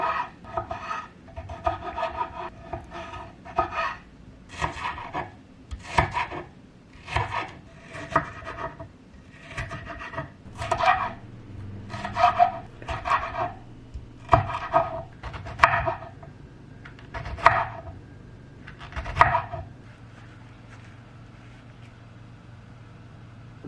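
Knife chopping vegetables such as tomato, avocado, onion, bell pepper and jalapeno on a cutting board in a home kitchen, a steady series of close, crisp cutting strokes with brief pauses between groups.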